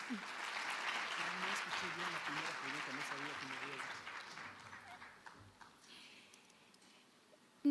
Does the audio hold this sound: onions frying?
no